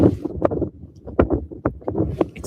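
Wind buffets a microphone outdoors on a hilltop, producing loud, close, irregular low rumbling gusts that thump and surge unevenly throughout.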